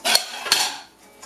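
Two sharp knife strikes on a cutting board while chopping tomatillos for hot sauce, close and crisp, followed by a quieter scrape.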